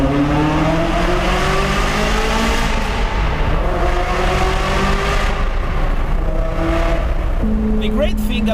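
A Ferrari F355 with an aftermarket exhaust roars loud and close inside a tunnel, its engine note rising and falling through several revving pulls and gear changes, ending on a sustained high howl.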